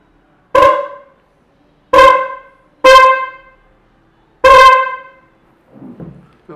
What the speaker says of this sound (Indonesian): sekarang saya akan mengetes apakah klakson ini berfungsi atau tidak